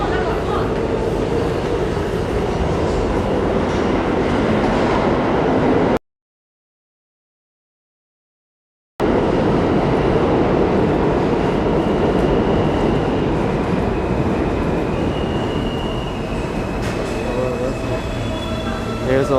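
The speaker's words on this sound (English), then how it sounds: "There's a local train arriving." An NYC subway R local train pulls into a Queens station, a loud rumbling roar with squealing wheels and rattling cars that persists throughout, broken by a brief gap.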